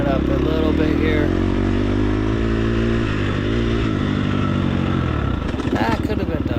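A dirt motorcycle's engine roars loud and close as it accelerates along a dusty ranch trail, pitch climbing and wavering with clattering over rough ground and a brief voice underneath.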